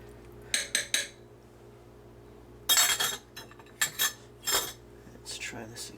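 A spoon knocks and clinks against a metal pot while stirring salt into an Irish stew, in several quick bursts of clattering separated by quiet pauses, with a faint steady hum in the background.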